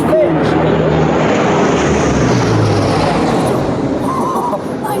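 Loud, continuous engine roar of a helicopter overhead at a film shoot, steady throughout, with a faint murmur of voices beneath.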